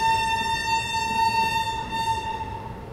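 Rani Kamlapati–Jabalpur Jan Shatabdi Express with a Vista Dome coach standing at Pipariya station, a steady tonal rumble with a sustained high whine or horn-like drone running throughout, no talk.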